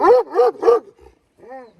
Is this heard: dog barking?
yes